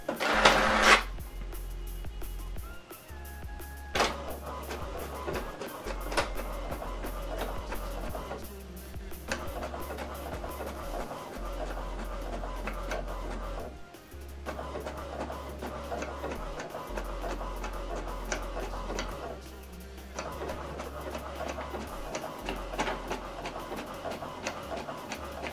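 An HP printer prints a document page with quiet mechanical whirring, repeated ticking and clunking feed motions, and low rumbling carriage passes in uneven bursts.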